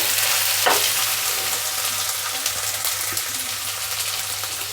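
Peeled fresh field beans stirred into a hot pan for a potato-carrot curry, giving a loud, dense frying hiss and sizzle with scraping stirs throughout, and no voices.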